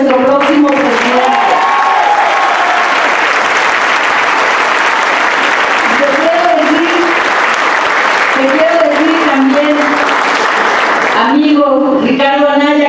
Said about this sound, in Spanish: Claro que hay que aplaudirle porque va a ser nuestro próximo presidente.